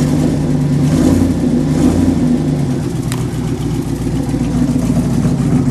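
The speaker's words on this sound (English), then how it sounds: "But it's got the nice V8 roar that everyone likes." A V8 engine in a Toyota Hilux monster truck rumbles loudly and steadily with a deep roar throughout, held at a mild rev while still cold, with no talking.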